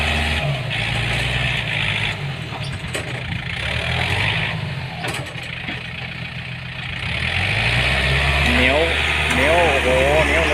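A dump truck engine drives in second and third gear on muddy, rain-soaked clay ground, its loud, steady low drone rising in pitch toward the end, with brief talk layered over it.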